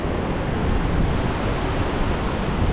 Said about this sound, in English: You've got the ravines and everything, the water coursing through.